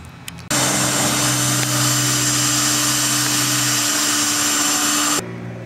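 A power drill bores out a broken header stud on a Cobalt SS, running as one loud, steady, high whine for about five seconds with no talk.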